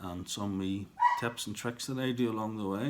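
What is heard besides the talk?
dog barking in the background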